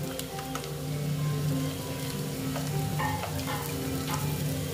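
Potato and flattened rice pieces fry in a pan after a burst of steam, giving a continuous close sizzle with occasional spatula scrapes and taps.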